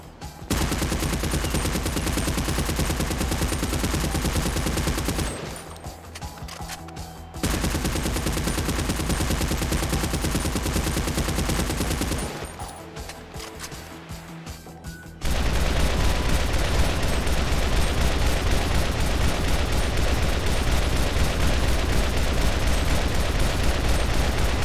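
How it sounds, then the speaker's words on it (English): A battle rifle in GTA Online using the Max Payne 3 FAL sound, firing loud, dense bursts of rapid shots in three long strings separated by short pauses, punchy and close with no talk. "it literally is the sound from Max Payne 3's FAL"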